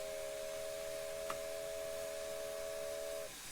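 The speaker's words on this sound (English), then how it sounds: "Whistle number 2 sounds like this." A steam whistle from an LNER A4 locomotive in Train Simulator Classic sounds as one steady, sustained multi-tone blast of about three seconds. It cuts off cleanly and leaves a faint hiss.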